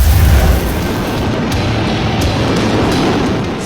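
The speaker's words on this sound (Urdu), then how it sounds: "یورپ اور یوکے میں نئے سال کی تقریبات اور آتش بازی کا حسین نظارہ" New Year fireworks over the UK boom and crackle continuously, a dense roar of distant bursts with a heavy low thump at the start and scattered sharp pops throughout.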